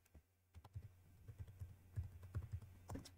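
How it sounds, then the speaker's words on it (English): Quick, light keystrokes on a computer keyboard typing into a search bar, close and fairly quiet, in short uneven bursts with a faint background hum. "let's head over to the search bar and type"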